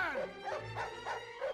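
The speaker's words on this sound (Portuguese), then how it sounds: "Olha a cachorrada que chegou." A pack of dogs in the Up video game barks and yips in quick bursts, several barks layered into a loud, whining, rhythmic chorus with no talk over it.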